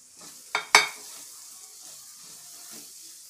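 Curry leaves hit hot oil in a pan for Chicken 65 with two sharp bursts of sizzle and spatter up close, followed by a softer fading hiss and faint stirring scrapes.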